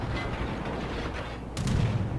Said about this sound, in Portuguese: Tá tentando atirar, mas quando o alvo tá marcado, o tiro vai reto.